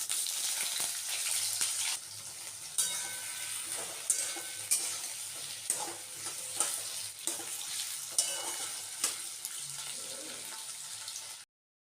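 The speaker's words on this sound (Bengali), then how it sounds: "এখন আমি সবজিগুলোকে ভেজে নেবো" Vegetables fry in oil with cumin, bay leaf and dried chili for a thin thankuni-leaf curry, a soft constant sizzle punctuated by regular scraping and tapping of a stirring spoon, quiet and close with no talk.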